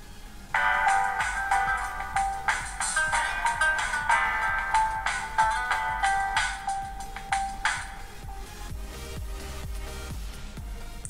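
A Bluboo X550 Android 5.1 smartphone plays its startup sound while booting, a bright, melodic chiming jingle with rhythmic pulses that fades after several seconds into quiet.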